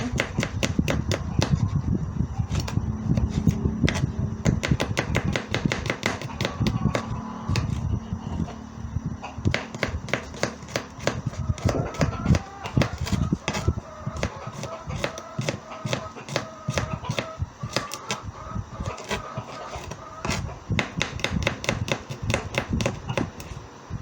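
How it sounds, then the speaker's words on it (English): A knife slices garlic on a cutting board in a home kitchen, producing quick, steady chopping taps in a dense, near rhythm that runs throughout, with only brief pauses. "Then we have our garlic. Just slice it small."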